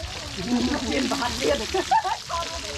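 Sausages and meatballs frying at a village party in Cambodia, a steady soft sizzle running throughout with a few brief louder crackles, heard at close range without talk.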